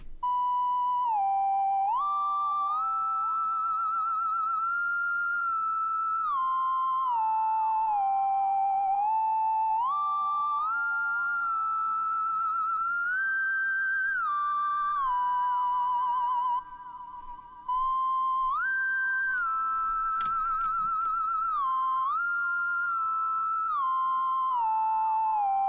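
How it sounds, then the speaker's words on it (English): A synth sine wave preset with heavy legato and vibrato, playing a smooth gliding melody of pure wavering tones that slide between notes, steady and alone with no voices. "It's literally just a sine wave with heavy legato and vibrato on it."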